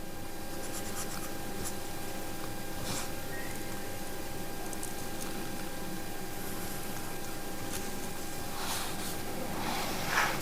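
Pencil drawing a line across graph paper for a simple pendulum L–T squared graph in a physics lab, a soft continuous scratchy rasp with brief louder strokes near the end.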